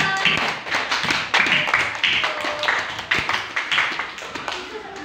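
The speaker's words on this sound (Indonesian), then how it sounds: "Beri tepuk tangan untuk kelompok A" A primary school class claps for a group of classmates, a loose scatter of distinct hand claps from a small crowd of children nearby, uneven in rhythm, with faint voices under it.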